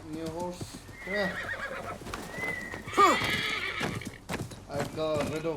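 A horse whinnies and hooves clip-clop amid game effects in Assassin's Creed Mirage, while a person talks over the sounds.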